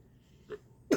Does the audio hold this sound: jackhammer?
no